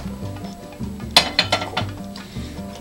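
Chicken carbonara gets stirred in a pan with garlic, producing a short run of metallic clinks and scrapes of utensil against pan, a few distinct taps close by over a low background.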